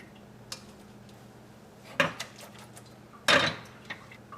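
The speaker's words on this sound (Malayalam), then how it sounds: "ഈ കായ നമുക്ക് വേവിക്കാൻ വേണ്ടിയിട്ട് ഒരു പാത്രത്തിലേക്ക് ഇടാം" Pieces of raw plantain drop into a cooking pot, making two clear clattering knocks and a few lighter taps against the vessel in a quiet kitchen, with no talking.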